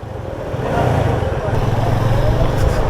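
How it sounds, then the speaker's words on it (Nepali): Several motorcycles, including a 220 bike, ride together along an off-road trail toward Helambu's Sursing waterfall in Nepal, their engines drawing a steady, close mid-range drone that swells slightly as they go, with voices talking over it. "पछाडिबाट 220 बाइक आउँदै हुनुहुन्छ"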